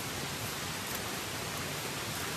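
Heavy monsoon rain pours down in the forest on the Panhala to Pavankhind trek in the Sahyadri hills, a dense, steady hiss that stays loud and unbroken throughout.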